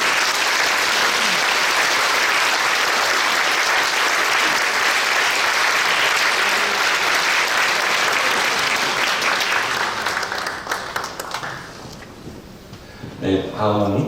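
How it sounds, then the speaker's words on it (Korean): A church congregation applauds during a ceremony honoring a retiring senior pastor, loud sustained clapping filling the room for about ten seconds before thinning out and fading, with a voice returning at the very end. "박수."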